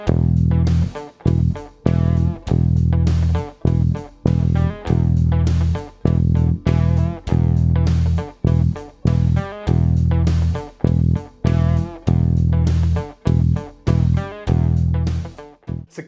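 A beginner's bass guitar line played along with a backing track, heavy low notes in a steady rhythmic pattern with regular short gaps, loud and close, no talking.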